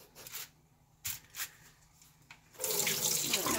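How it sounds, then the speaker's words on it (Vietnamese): Tap water runs into a sink while seaweed is rinsed for miso soup, a steady rush starting partway through after a few quieter knocks and splashes. "Bây giờ mình sẽ rửa rong biển."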